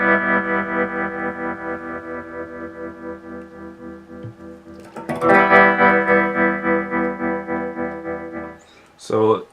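Guitar through an Electro Harmonix Stereo Pulsar tremolo pedal set to a falling sawtooth wave, sustained chords pulsing in a steady choppy rhythm, loud and close, with a fresh strum midway and a brief burst of talk at the end.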